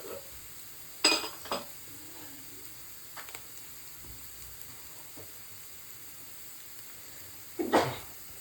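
Onions frying in a pan with turmeric and coriander powder give a faint, steady sizzle, broken by two louder bursts of stirring or scraping near the start and near the end.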